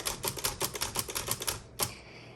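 A 1954 Underwood-Olivetti Lettera 22 manual typewriter clatters through a quick run of sharp mechanical clicks and clacks, close by, then pauses briefly before one final snap with a short ringing tail.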